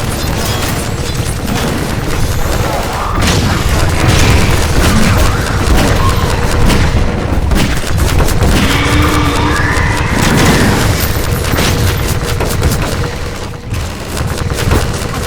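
Dense gunfire and booming explosions in Half-Life 2: Episode Two played in VR, a loud continuous battle din of bursts, blasts and rumbles with occasional voices calling out over it.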